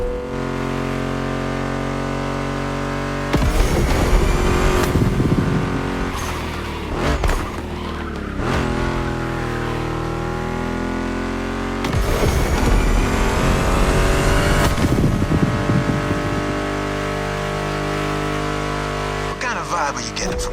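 A Mustang GT muscle car engine roars and revs hard in the racing game The Crew Motorfest, with gear shifts, surging acceleration and bursts of tire squeal, loud and continuous.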